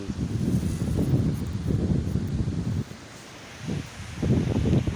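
Gusty wind on a sandy beach by a calm sea buffets the microphone in rumbling waves, dropping briefly before surging back, with a soft wash of outdoor noise behind.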